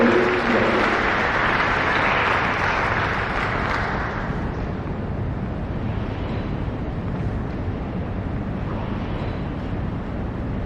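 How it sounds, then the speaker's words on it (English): Audience applause at the Two Oceans Graduation Institute graduation ceremony in October 2024, a broad, steady roar of clapping that is loud at first and then eases to a sustained wash, heard from within the hall. "Please give a round of applause, Dr. Lawrence."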